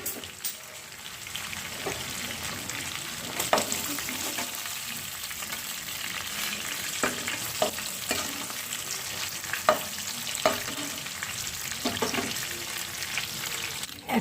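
Pabda fish frying in hot oil gives a steady, crackling sizzle. Sharp clicks and scrapes of stirring recur throughout, close and alone with no talk.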